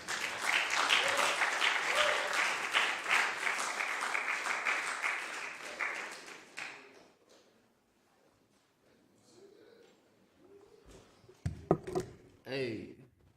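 An audience at a spiritual service bursts into loud, sustained clapping for about six seconds, then fades to quiet, followed by someone speaking into a microphone.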